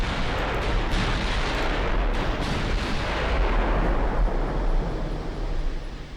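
Naval artillery fire in the warship game Ultimate Admiral Dreadnoughts, with heavy 18-inch rounds, heard as a continuous, loud, dense roar of booming gunfire and rumbling blasts that never lets up.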